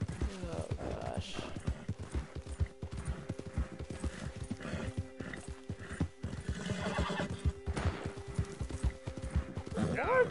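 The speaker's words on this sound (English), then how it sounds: "Come on, horse. You can freaking jump over." Horse hooves clip-clop in a steady galloping rhythm with repeated whinnies and neighs in Red Dead Redemption 2, a voice talking over it and occasional background activity.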